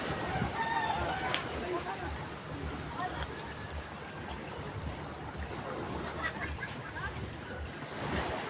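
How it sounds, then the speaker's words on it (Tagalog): Large ocean waves wash around a small motorboat at sea, a continuous rushing surf and wind noise heard from close by, fairly quiet, with faint voices in the background. "Laki ng alon mga paro."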